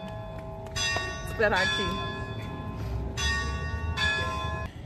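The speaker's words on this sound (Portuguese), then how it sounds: "O sino da catedral." A cathedral church bell rings in Braga, Portugal, struck repeatedly with long ringing tones that sustain and overlap, moderately distant, while a person speaks briefly nearby.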